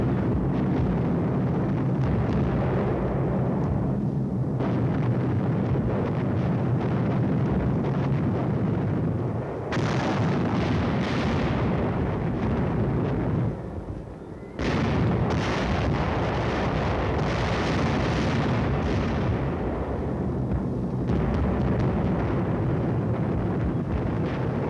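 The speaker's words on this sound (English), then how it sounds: "In 4 hours, 500 tons of bombs were dropped to level the Abbey." Aerial bombing of the Monastery Hill abbey, wave after wave of bombs falling: a continuous, dense roar of distant explosions and rumbling blasts, loud throughout with a brief dip midway, no voices.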